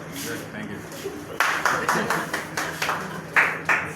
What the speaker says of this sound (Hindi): जबरदस्त तालियां एंड्रिया भाई के लिए, तालियां भरपूर क्लैपिंग होगी